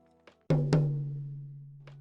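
Two quick tom hits on the first rack tom of a drum kit, close and loud, the second following the first almost at once and leaving a sustained pitched ring, with a faint soft tap before and after.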